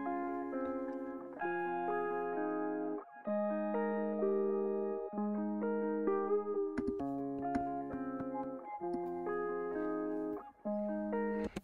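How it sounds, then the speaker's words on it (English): A sustained, effects-laden electric guitar loop plays alone, with layered chords changing every couple of seconds and a smooth, washy tone. "This is the first guitar loop that I made"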